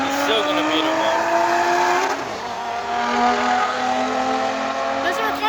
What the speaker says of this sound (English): The McLaren just went 100 miles per hour.